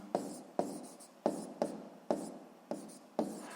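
A pen writes on paper in short bursts, roughly six or seven quick scratchy strokes, each starting sharply and trailing off, close and fairly quiet with no talking.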